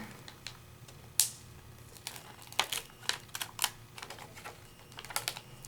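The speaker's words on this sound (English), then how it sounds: "And peel it off" A glitter sticker is peeled from its backing sheet, making a series of small, close crackles and sharp ticks that come irregularly and pick up toward the end.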